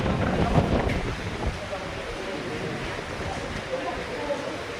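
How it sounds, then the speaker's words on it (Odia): Heavy rain and strong wind sweep the Kamakhya bus stop during an unseasonal downpour, a dense, steady hiss and roar that is loudest at the start before easing slightly. "ଦେଖନ୍ତୁ କେମିତି ବର୍ଷା ହେଉଛି କାମାକ୍ଷା ବସ୍ ଷ୍ଟପ୍ କେମିତି ପବନ ହେଉଛି"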